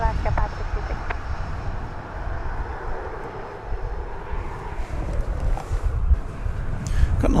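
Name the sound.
Alaska Airlines Boeing 737-9 jet aircraft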